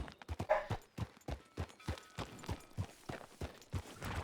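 Horse hooves clip-clopping in a steady walking rhythm, each footfall sharp and fairly close, with faint background voices now and then.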